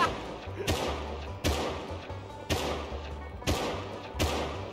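Gunshots in the survival game Rust, five evenly spaced sharp cracks roughly one second apart, each ringing briefly over a low rumbling game background, moderately distant.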